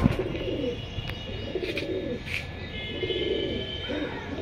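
Pakistani pigeons in a loft give repeated low, rolling coos in short phrases throughout, close by, with a few sharp clicks and faint chirps over a light background hum.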